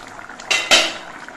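A lid comes off a pot of pumpkin curry with two quick metallic clanks close by, followed by a brief rattle and scrape of stirring.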